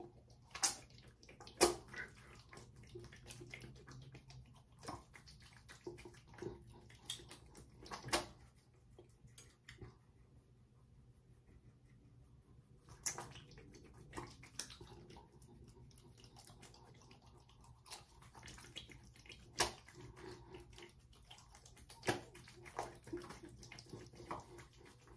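Water from a tap runs steadily for face washing, with intermittent splashes and small knocks over a low background hum, fairly quiet and close.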